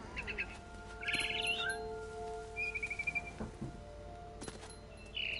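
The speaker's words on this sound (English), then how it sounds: "Then I heard chirping outside my window. It was a barn swallow going back to her nest." Barn swallow chirping in the video game What Remains of Edith Finch, with short bright trills and twitters repeating in quick bursts over a steady ambient background hum, moderately close but quiet.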